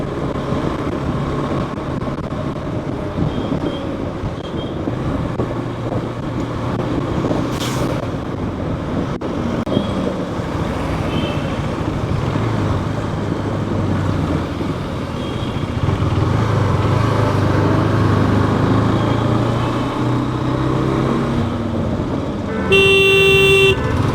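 Early-morning traffic on a Mumbai road: a steady wash of passing cars and trucks close by, rising and falling as vehicles go past, with a brief honk near the start and a loud horn blast at the very end.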